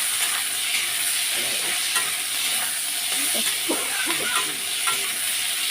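Onions frying in oil with black cumin seeds, a steady close sizzle with intermittent scraping and stirring strokes throughout.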